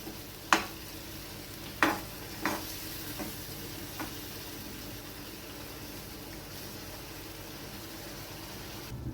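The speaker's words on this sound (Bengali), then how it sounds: "মশলাটা দিয়ে আমি ভালোভাবে কষিয়ে নেবো" Spice paste frying in a pan hisses quietly and steadily, with a few distinct spatula knocks early on as it is stirred, then a low, even sizzle.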